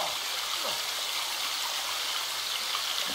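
Water scooped and drunk at a watering hole in the survival video game The Forest, heard as a steady, soft trickling stream with a few faint splashes and no voices.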